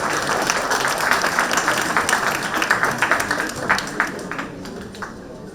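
A conference audience at a climate action plenary session claps for an actor being introduced, a dense, steady round of applause that thins out and fades near the end.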